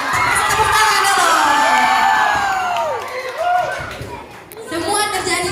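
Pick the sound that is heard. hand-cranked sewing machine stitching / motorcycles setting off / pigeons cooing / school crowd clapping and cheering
school crowd clapping and cheering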